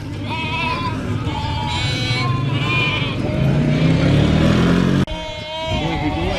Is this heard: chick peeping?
no